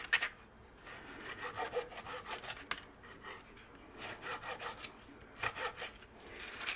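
Knife slicing raw meat on the bone into strips, heard as repeated scraping, rubbing strokes in bursts with short pauses, close and moderately quiet with no talking.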